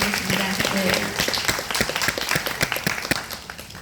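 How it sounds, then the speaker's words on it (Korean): An audience at a university talk concert claps for a company chairman, scattered sharp hand claps building into a loose, uneven round while a voice speaks briefly at the start. "자, 여러분 이쯤에서 다시 한번 박수 한번 우리 회장님께 부탁드리겠습니다."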